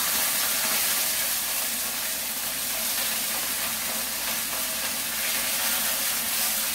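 Carne de sol cooks in a pan with milk, onion slices and butter, giving a loud, continuous sizzling and spattering hiss that holds steady throughout, close up.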